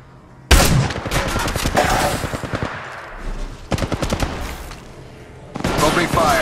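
Automatic gunfire in the Apex Legends Mobile shooter game, with loud, close, rapid bursts of shots in three separate volleys and short pauses between them, under a busy in-game mix.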